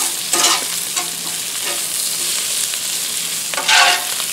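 A cut croissant roll laid face down on a hot Blackstone griddle, giving a loud, close sizzle with a few sharp bursts of crackle and scraping.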